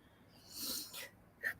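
A single close sneeze, a short breathy burst with a sharper snort-like release near the end, heard alone in a quiet room.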